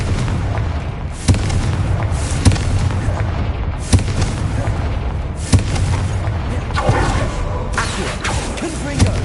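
Confringo explosive spells cast in the game Hogwarts Legacy: a series of booming blasts at roughly one- to two-second intervals over a dense, continuous rumble of combat noise, loud and close.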